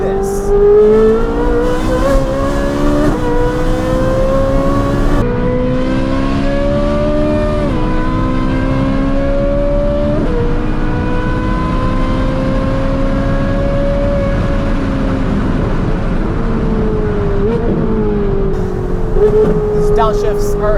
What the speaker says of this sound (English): Combining those three things onto a Ferrari 458 will make it sound a little bit like this.